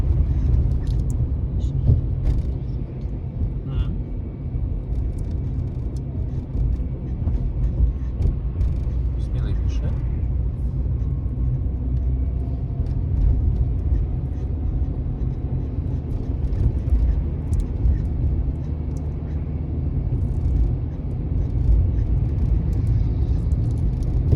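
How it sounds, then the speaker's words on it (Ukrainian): A car on a driving-test route through city streets in Ivano-Frankivsk pulls away and shifts up, giving a steady, close engine and road rumble for the whole stretch with a voice talking over it. "трошки розігнати автомобіль, і ми одразу переключаємо передачу"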